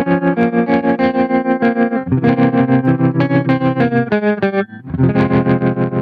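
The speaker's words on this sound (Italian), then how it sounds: "ora settiamo una velocità abbastanza ampia, scegliamo un tremolo vintage" Electric guitar through a TC Electronic Plethora X5 pedal set to a vintage tremolo, chords pulsing in a steady fast rhythm, loud and close with no talking.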